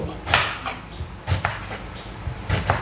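A knife slices a purple eggplant diagonally on a cutting board, giving three crisp, scraping cuts about a second apart, near and moderately loud with no talking.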